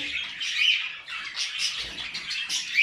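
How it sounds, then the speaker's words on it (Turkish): A male cage bird courts a female with continuous bright chirps and squawky trills, close and fairly loud with no talk. "Erkin şu an yoğun bir kur yapıyor"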